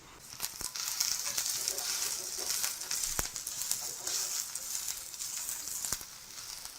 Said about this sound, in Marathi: मिरच्या टाकल्या मिरच्या थोड्या गरम करून घ्यायच्या जास्त नाही